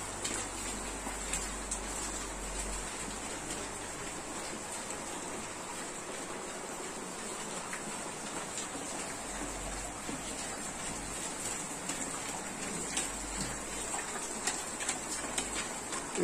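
Heavy monsoon rain falls steadily on a house, with water leaking and dripping inside, making a constant wash of patter and scattered drips close by.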